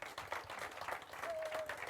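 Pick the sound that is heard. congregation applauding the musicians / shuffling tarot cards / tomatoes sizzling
congregation applauding the musicians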